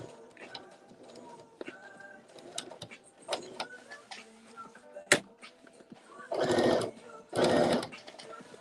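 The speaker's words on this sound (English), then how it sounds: "These are sewing up really quickly, really nicely." Sewing machine stitching jeans made from a Simplicity pattern, running in two sustained loud bursts near the end after a stretch of quieter handling noises and faint clicks.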